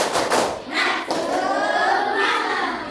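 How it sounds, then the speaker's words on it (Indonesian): An elementary school class stands and performs a rhythmic spirit clap, a few loud, sharp clap bursts in a pattern at the start, then children's voices chanting and talking over lighter claps. "Sekali lagi, tepuk semangat."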